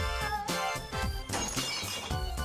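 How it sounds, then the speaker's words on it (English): Glass bottles smash and shatter as they drop into a recycling bin, a loud continuous run of crashing, clinking breakage with repeated impacts over a couple of seconds. "That's the sound made from the bottles smashing and breaking into little pieces"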